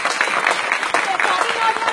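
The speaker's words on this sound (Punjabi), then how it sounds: "ਤਾੜੀ ਤਾੜੀਆਂ ਵੀ ਆ" An audience at a children's school event claps, a dense patter of applause that continues steadily throughout.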